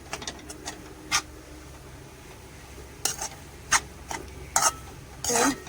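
Dried shrimp and onion chutney with black masala cooks in a pan. A soft sizzle sits under several sharp, intermittent scrapes and clinks of a spoon stirring against the pan. No voices are heard.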